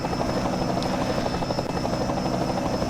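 A helicopter filming a rallycross race at Talladega, its steady rotor and turbine drone loud and continuous throughout, with a faint rhythmic chop and no voices.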